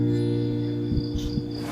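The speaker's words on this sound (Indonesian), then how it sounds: "HP kok kaya suara jangkrik iki berarti krik-krik" Crickets chirp steadily in a quiet setting, a continuous high trill running throughout at moderate level, with a few low thumps and soft background noise near the end.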